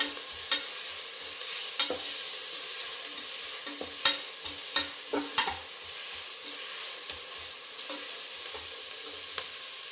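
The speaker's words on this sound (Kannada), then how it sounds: "ಶುಂಠಿ ಬೆಳ್ಳುಳ್ಳಿ ಪೇಸ್ಟ್ ಹಾಕೊಂಡ್ಮೇಲೆ ಚೆನ್ನಾಗಿ ಅದು ಸ್ಮೆಲ್ಲೆಲ್ಲ ಬಿಡೋವರೆಗೂ ಚೆನ್ನಾಗಿ ಮಿಕ್ಸ್ ಕೊಡಬೇಕು" Ginger garlic paste frying in a pan for a rice bath, with a soft steady sizzle and scattered spoon scrapes and taps as it is stirred, close and fairly quiet, without speech.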